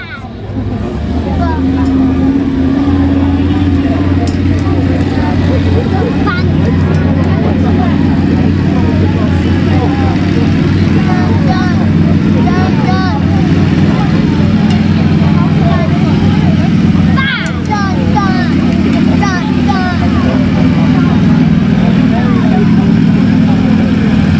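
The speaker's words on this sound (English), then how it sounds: "give us a rotating signal like this for the guys to bring out the monster truck" A monster truck drives out at a Sunday night stunt show at the Great Dorset Steam Fair in August 2019, its engine a loud, continuous, heavy rumble that holds steady throughout with slight swells in pitch, over faint crowd noise.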